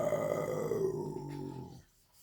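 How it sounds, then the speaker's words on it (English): A low, rumbling growl rises and trails off over about two seconds, loud and close, then cuts to near silence. "That's your stomach growling."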